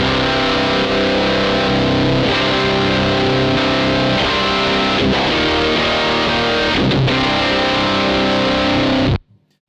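An electric guitar plays a heavily distorted gain tone through a Gamechanger Audio Plasma Pedal, with loud sustained chords that ring continuously and then cut off abruptly at the end.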